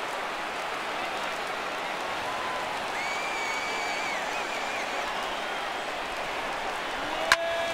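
Large stadium crowd of over 39,000 in the baseball video game MLB The Show 17, a steady wash of cheering and murmur that holds at an even level throughout, with a sharp short crack near the end.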